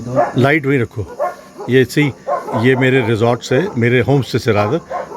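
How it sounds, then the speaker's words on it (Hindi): Three dogs bark repeatedly at two sambar deer moving through the jungle near a homestay in tiger country; the barking stays in the background under steady close-up talk from a man. "ये डॉग्स जो हैं इस तरफ मुँह करके लगातार भौंक रहे हैं।"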